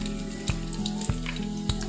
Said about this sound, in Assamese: তেলটো গৰম হৈ গল এতিয়া আমি পিয়াজখিনি বহাই দিম